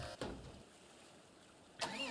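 A John Deere 8RT 410 tractor engine in Farming Simulator cranks and catches, with a brief start at the opening, a quiet pause, then a louder engine rising into a steady run.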